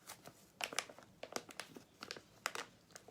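Trash being crumpled by hand at a tabletop while arranging succulents, a close series of sharp crinkling bursts in an irregular rhythm with no talk.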